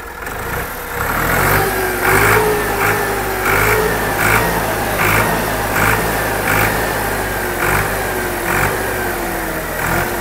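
A Massey Ferguson 260 Deluxe tractor with about 70 running hours, blowing blue smoke and down on power, runs steadily. Its engine drones loud and close, with regular rhythmic pulses and slight rises in pitch.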